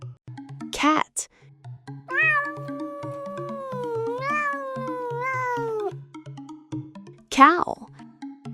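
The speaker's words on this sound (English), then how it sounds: "cat." A domestic cat gives a single long, drawn-out meow with a rising and falling pitch, clear and close, framed by brief child-like voice sounds before and after and a soft repeating musical backing underneath.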